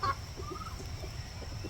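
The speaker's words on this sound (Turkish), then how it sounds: "Bunlar da sonradan alınan tavuklar." Soft, low clucking from a few chickens, steady and close, with a brief higher call near the start.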